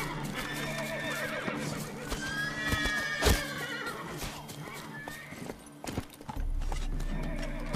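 Horse hooves clip-clop steadily through a ride in The Witcher 3, with whinnies, game music and scattered voices over the galloping rhythm.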